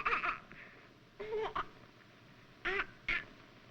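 Four short squawking bird calls, presented as a seagull in a 1946 film, sound moderately close and arrive in two pairs separated by quiet pauses.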